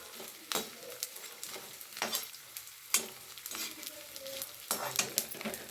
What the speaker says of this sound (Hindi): थोड़ा थोड़ा ही डाल के करेंगे ताकि अच्छे से ये फ्राई हो जाए